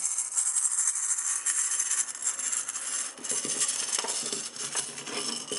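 Small charms cast and scattered onto a surface, a faint spray of light clinks and ticks tumbling and settling over several seconds, with no talking.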